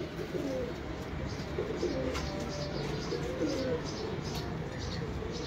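Low, continuous cooing from loft pigeons fills the space, soft rolling calls layered over steady ambient hiss, with faint higher chirps above.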